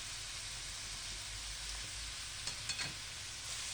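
Onions frying in a pot as two spoonfuls of tomato paste go in, a steady soft sizzle with a few brief spatters and clinks partway through.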